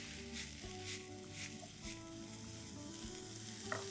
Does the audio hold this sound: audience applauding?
no